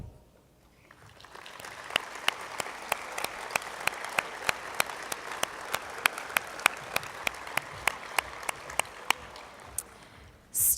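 An audience at a fall university graduation ceremony applauds graduating students, with a steady wash of many hands clapping that swells and holds for about ten seconds, sharp individual claps standing out, before fading near the end.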